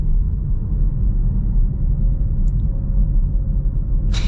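A 2024 Jaguar I-Pace electric car drives along with a steady low rumble of road and cabin noise, smooth and continuous from inside, ending in a brief soft rustle.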